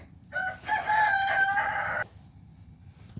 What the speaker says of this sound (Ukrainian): Це півник з вами вітається, друзі.